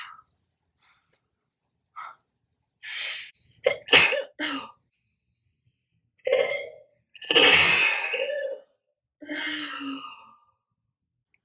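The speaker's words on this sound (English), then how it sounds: "I'm gonna sneeze." A few breathy, hitching inhales build up to one loud sneeze, followed by a softer breath out. No one speaks.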